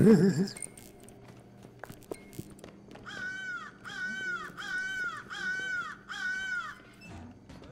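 A crow caws in Secret Neighbor, five evenly spaced harsh calls repeating one after another at moderate loudness, following a short burst of other sound and faint background noise.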